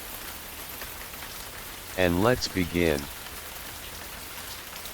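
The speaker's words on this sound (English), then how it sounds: "let the rain do its thing." Gentle rain falls steadily in an even, soft patter that continues throughout. A calm voice speaks briefly near the middle.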